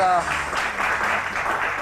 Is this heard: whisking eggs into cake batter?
no